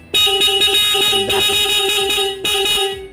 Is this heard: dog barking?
no